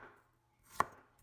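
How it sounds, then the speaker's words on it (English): A single sharp knife chop through garlic cloves on a board, one crisp close thud standing out briefly in a quiet kitchen. "Next, we will cut a few cloves of garlic."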